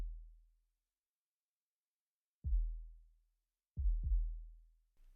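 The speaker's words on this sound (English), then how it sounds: "That's just the sub. It gives it a nice tail, like a vroom." A band-passed, heavily compressed sub bass sound thumps four times, each a deep low hit with a long decaying tail, spaced irregularly with two close together, loud and isolated.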